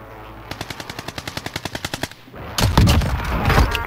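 Automatic gunfire in the video game Call of Duty: Warzone: a rapid burst of about fourteen evenly spaced close shots, then a pause and a louder, denser barrage of blasts and rumbling impacts.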